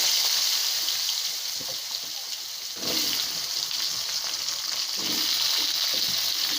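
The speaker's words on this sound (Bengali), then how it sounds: "যে কোনো স্পাইসি খাবার খেতে গেলে এই গোটা গরম মশলাগুলো ফোড়ন দিতেই হবে" Whole garam masala spices sizzle and crackle in hot oil, a steady, close, bright frying hiss that swells slightly now and then, with no talking.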